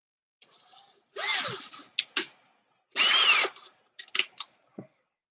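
Ryobi power drill drilling small pinholes in a scale model, short whirring bursts of a few seconds each, with brief pauses and a few quick taps between.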